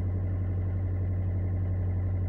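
Opel Vivaro van diesel engine idling steadily at about 825 rpm, a close, even low hum with a constant rumble and no change in pitch throughout.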